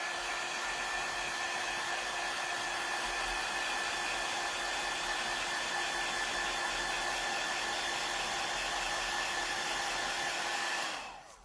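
A hair dryer blows at a steady, loud, constant pitch for about eleven seconds, then cuts off abruptly at the end, with no talking.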